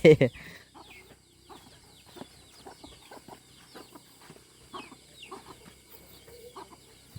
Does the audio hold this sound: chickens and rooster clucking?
yes